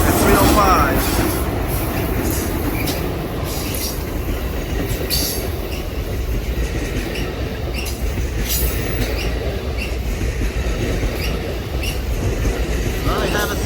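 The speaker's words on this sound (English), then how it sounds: "Alright, folks, they got that train going to Los Angeles." A passenger train bound for Los Angeles rolls through Santa Clara University station, a steady loud rumble of rail cars with wheel clatter and high squeals from the wheels throughout.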